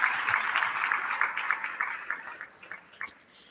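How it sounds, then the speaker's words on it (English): Audience applause at a conference stage session, a faint, distant patter of clapping that thins out and fades to scattered claps. "Please give another round of applause for Professor Powell."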